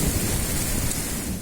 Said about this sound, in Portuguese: o temporal que atingiu várias cidades aqui do nosso estado